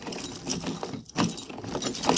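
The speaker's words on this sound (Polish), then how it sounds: "A co się stanie, jak przekręcimy kluczyk?" Mechanical clicking and metallic rattling from a key being turned in the faulty driver's door lock of a Skoda Octavia 1, close and fairly loud, with a brief quiet gap partway through.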